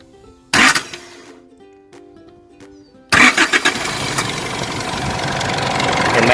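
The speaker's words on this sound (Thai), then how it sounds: "พอเราจำแล้ว เครื่องก็จะสตาร์ทติดเลยนะครับ" A car engine cranks and fires after a dead battery is jump-started at its terminals, starting with a loud burst of cranking and settling into a steady, close idle running to the end.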